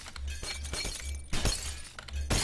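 Glass breaks in the video game Happy Wheels, several sharp shattering crashes with tinkling debris in quick succession, fairly loud and with no talk.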